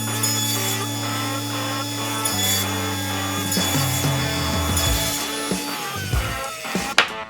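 A table saw runs steadily while cutting notches into maple pieces, a continuous whining hum with a rough, rasping edge as the blade bites the wood, loud and close, ending with a short knock.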